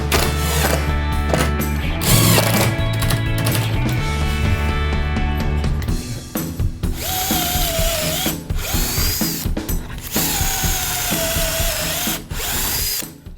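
A power drill drives screws into timber during a campervan conversion build, with a repeated whirring motor that spins up and stops in bursts, nearby and loud, over a dense layer of workshop noise.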